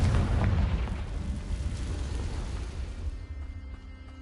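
A booming Confringo explosion spell bursts in the video game Hogwarts Legacy, loud and heavy at the start and then rumbling away over about four seconds.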